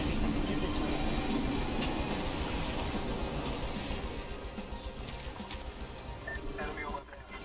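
A train rumbles steadily through a snowy Apex Legends Winter Express match, a dense rolling roar under people talking that eases slightly toward the end.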